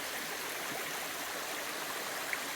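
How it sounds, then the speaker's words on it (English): Water flowing on either side of a rock at a garden stream called Fairy Falls, a steady close broadband rush and splash without pauses or voices. "the water now flows on either side of this rock"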